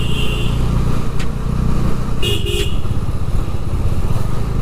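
Four motorcycles' engines drone steadily on a road in India, close and loud, with a couple of short horn toots cutting through partway.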